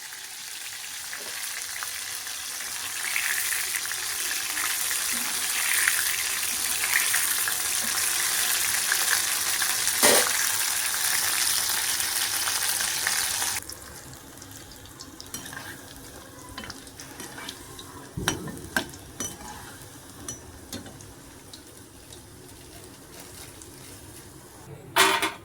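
Meal maker soy chunks fry in hot oil with a dense, loud sizzle, stirred now and then, until the sizzle drops off partway through and leaves quieter crackling with occasional clinks of a utensil against the pan.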